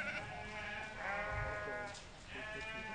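Sheep on rugged Idaho mountain grazing land bleat in overlapping, wavering calls, several animals close by, over a low outdoor rumble.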